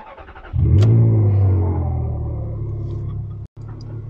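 A Ferrari's engine cranks and catches after the key is turned, jumping into a loud, close rumble that flares briefly and then settles into a steady idle, with no talking.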